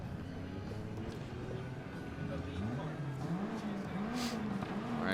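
A black Toyota Soarer drift car in competition at Okayama whines through its engine revs with rising and falling tone and tire noise, heard at a distance under a commentator talking.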